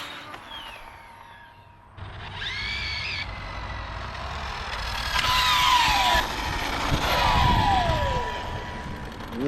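An Arrma Limitless RC car runs at full speed, its electric motor whining and rising in pitch as it winds out, passing near then fading, with steady loud rushing noise.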